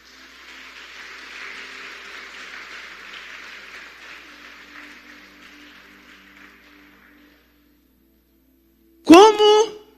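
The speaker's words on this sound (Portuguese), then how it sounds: "Dê um aplauso ao Senhor." A church congregation applauds in a sustained wash of clapping that gradually thins and fades out, followed after a short silence by a brief voice.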